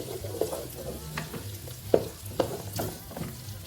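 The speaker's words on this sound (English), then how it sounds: "So we'll be adding in our liver. And we will stir." Liver being stirred into rice frying in a pot, with repeated scraping and clattering strokes over a steady low sizzle, close and moderately loud, and no voices.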